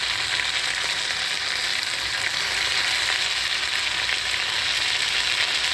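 Curry leaves, coriander and ginger-garlic paste frying in hot oil, a loud, dense, continuous sizzle that holds steady throughout with no voices.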